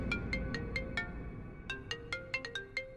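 A phone ringtone signals an incoming call, playing a repeating melodic pattern of bright tones that stays clear and steady throughout with no talk over it.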